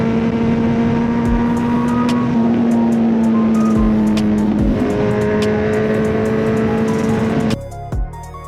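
A Kawasaki Z900 motorcycle stuck in beach sand holds a loud, sustained engine drone with steady revving, close by, before cutting off abruptly near the end.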